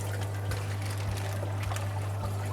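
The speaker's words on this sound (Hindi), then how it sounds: "यहाँ पर इसमें वाटर फिल कर ले रहे हैं टैंक का" Water from a marine aquarium tank pours steadily into a container, a continuous splashing trickle over a loud low mains hum from equipment nearby.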